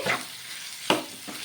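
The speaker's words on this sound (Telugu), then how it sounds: "ఇలా వేసుకొని చికెన్ అయితే ఓసారి బాగా కలిపేసుకోవాలి" Chicken fried and stirred in a pan gives a continuous sizzle with a couple of sharp spatula scrapes and clinks, close and clear, with no talking.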